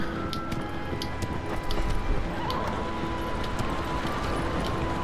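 A horse whinnies in the video game Shadow of the Colossus, close and clear above a steady wash of game ambience, with faint clip-clop texture running beneath it.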